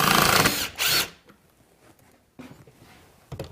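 A power drill drives screws into wall studs during an installation, giving a loud, close whirring burst that stops and starts again briefly, followed by fainter scattered handling noises and a short final buzz.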